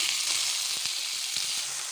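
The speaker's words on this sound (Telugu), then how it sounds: "ఈ ముక్కలకు కొద్దిగా నూనె వేసి వాడ్చుకోవాలండి" Steady sizzling of ivy gourd pieces frying in hot oil, continuous and fairly loud with a few light stirring knocks.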